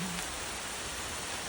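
Heavy thunderstorm rain pours down, along with water dripping from gutters, a loud, even, unbroken roar with no voices.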